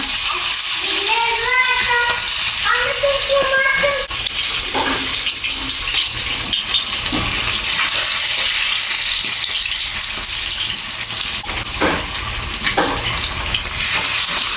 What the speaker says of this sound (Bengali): না ভালো গরমই হয়েছে আমি এখন এখানে চিকেনগুলো দিয়ে দিব